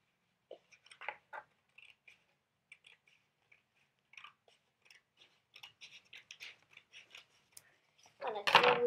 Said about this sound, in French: Et vous allez couper ici, au milieu.